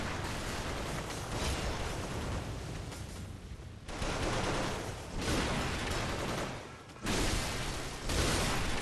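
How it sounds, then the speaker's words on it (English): A turret in the video game Bloodborne fires in loud sustained bursts, broadband blasts that cut off abruptly and resume several times, with no talk. "And there's also a turret there."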